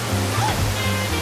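A steady, full rushing roar of a waterfall in the video game Super Mario 3D World plays continuously with a low hum beneath and a faint brief tone near the middle.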